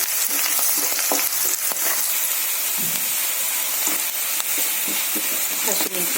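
Green chilies fry in hot oil for Gobi Manchurian, a loud continuous sizzle close by with frequent scraping and tapping from stirring mixed in.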